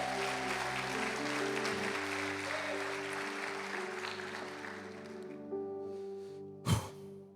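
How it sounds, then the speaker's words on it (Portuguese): A church congregation at Lagoinha Canoas claps for Jesus during a worship service, a broad wash of applause over sustained music that tapers toward the end, with one brief loud burst. "Aplauda Jesus bem forte."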